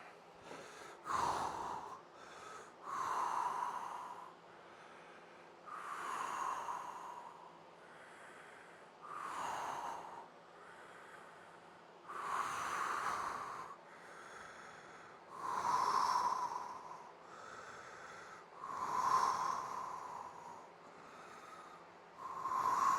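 Slow passive breathing during a training session: deep, audible inhales and exhales repeat in an even rhythm about every three seconds, close to the microphone with no talking.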